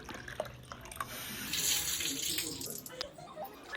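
Tamarind juice poured into a curry makes a soft, continuous splashing trickle, close and fairly faint, rising slightly in the middle before fading.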